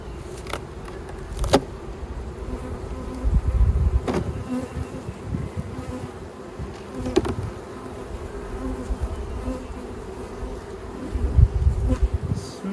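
Bees buzz densely and continuously inside an open beehive during a late-April inspection. The close, droning hum is broken by occasional sharp knocks and clicks of handling, with no speech.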